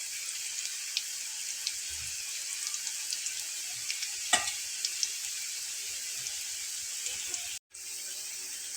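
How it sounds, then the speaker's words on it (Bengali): Potato pakoras deep-frying in hot oil give a steady, bright hiss and crackle with small pops and one brief sharp splutter, close and continuous until a sudden momentary cut, with nobody speaking. "ডুবো তেলে এগুলোকে আমি ভেজে নেব"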